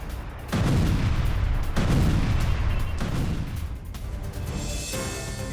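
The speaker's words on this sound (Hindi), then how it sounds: "बेरूत के दाहिया में भीषण बमबारी हुई है। इजरायली सेना की एयर स्ट्राइक हुई है।" Heavy bombing from an Israeli air strike on the Dahiyeh district of Beirut, near the airport: three deep, booming blasts roughly a second apart over a continuous rumbling roar, loud and sustained, with no voices.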